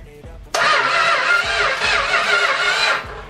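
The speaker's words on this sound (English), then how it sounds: "let's see if we can get it to crank over a little bit better here" A 1974 Plymouth Cuda's 440 big block V8, pulled from a motorhome and sitting in a junkyard, cranks over loudly and steadily on the starter for about three seconds, a rhythmic churning whir with no talking.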